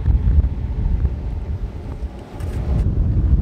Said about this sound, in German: Ziemlich windig heute